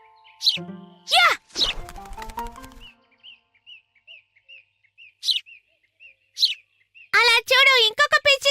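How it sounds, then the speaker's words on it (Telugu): Cartoon sparrows give a run of short, light chirps, evenly spaced and fairly faint, between louder bursts of animated character voices and effects at the start and end. "అలా చూడు, ఇంకొక పిచ్చుక."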